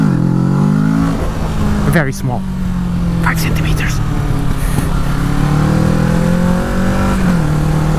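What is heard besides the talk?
Kawasaki Z650 motorcycle accelerating for a small wheelie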